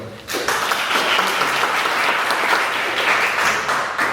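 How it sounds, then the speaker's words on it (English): A seminar audience at an ecology school event breaks into dense, sustained applause, rising sharply after a brief quiet start and holding steady, loud and close, for several seconds. "So please give him a big applause again."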